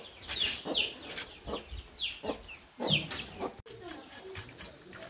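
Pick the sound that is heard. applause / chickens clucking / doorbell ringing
chickens clucking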